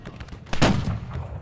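A single loud rifle shot cracks and rumbles with a lingering low echo in the Civil War-era shooter Battle Cry of Freedom, standing alone without speech.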